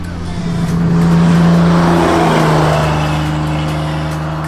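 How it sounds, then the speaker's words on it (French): A blue BMW 3.0 CSL drives by on the Tour Auto classic rally, its engine a loud, rising and falling roar with a buzzing drone as it passes close, then fading slightly as it pulls away. "Et on se quitte avec la 3 litres CSL bleue."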